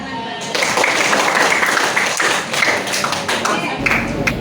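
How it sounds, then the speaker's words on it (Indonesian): Classroom group clapping during a teacher's coaching session in a school, a dense burst of many hands clapping together that fills the space steadily, moderately loud and without pause. "tepuk tangan dulu"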